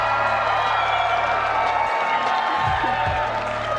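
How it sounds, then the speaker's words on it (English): A crowd at a Roseanne Barr comedy show claps and cheers continuously, a loud dense wash of applause with some whoops, while low voices talk underneath. "It's just her clapping or the audience clapping. Non-stop clapping."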